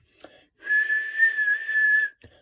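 A person whistles in imitation of a train whistle, holding one steady, close note for about a second and a half, with brief soft breathy sounds just before and after.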